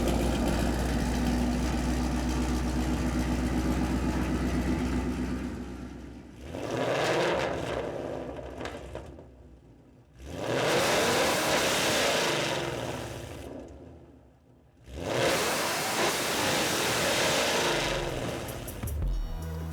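A supercharged 2017 Roush Mustang is run on a dyno: three loud, sustained engine pulls, each rising and dropping back to a lower idle-like drone, with no talk.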